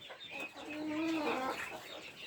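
Chickens cluck steadily in a henhouse as young birds feed, a close, continuous chorus of overlapping clucks and rising calls with no talking.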